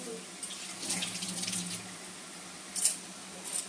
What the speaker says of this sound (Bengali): হাতটা ধুয়ে নিয়েছি